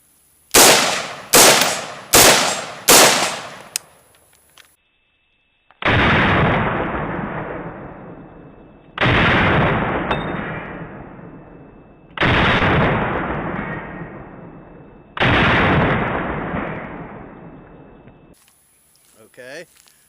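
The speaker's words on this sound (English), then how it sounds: "I'm going to fire 4 shots, see what it looks like." An AR-15 in 5.56 with a factory A2-style flash hider fires four sharp, loud gunshots in quick succession, each cracking and decaying fast, followed by several longer booming reports that roll out over a few seconds each outdoors.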